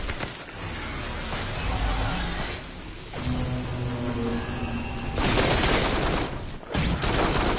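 Sustained gunfire in the co-op shooter Farpoint as players shoot incoming rockets out of the air, a dense continuous rattle of shots with whooshes and booms, loud and close throughout.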